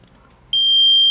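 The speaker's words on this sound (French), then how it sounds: "Donc il y aura l'alarme qui va se déclencher." An Arduino-driven intrusion alarm buzzer starts abruptly after a brief quiet moment and holds one loud, piercing, steady electronic tone, close by with no talking.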